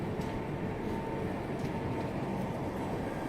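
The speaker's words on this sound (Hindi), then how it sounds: "चलो एक बार फिर से ओवरटेक कर ही लेते हैं महाबोधि एक्सप्रेस को" Train rumble from an Indian express train overtaking the Mahabodhi Express, a steady, dense roar of wheels and running gear that stays constant and loud throughout with no voices.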